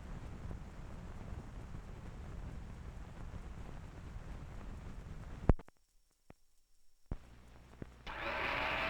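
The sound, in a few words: General Electric blender running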